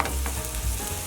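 A brief burst of loud sizzling and scraping as chicken pad thai is stirred and tossed together in a hot pan.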